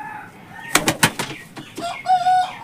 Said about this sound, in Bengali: চলে এলাম আমি পায়রার লফটে